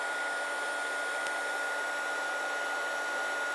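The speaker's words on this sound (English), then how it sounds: "And so now you need to grab out your heat tool" A heat tool blows hot air over a stamped paper card to set gold embossing powder on black, giving a steady, even whoosh throughout that runs alone with no talking.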